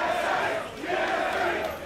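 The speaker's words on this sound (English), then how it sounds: "The crowd chanting their favorite tri-codes for their favorite team." An arena crowd at a 2015 NA LCS League of Legends match chants team tri-codes in loud, rhythmic, roaring waves that rise and fall, filling the hall.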